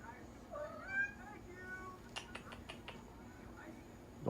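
A cat gives soft, faint meows, a few short rising calls against a quiet background, followed by some light clicking.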